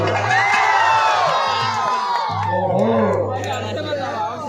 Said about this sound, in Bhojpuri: सुन ले बचे जो सुन ले हल्ला करके बताओ।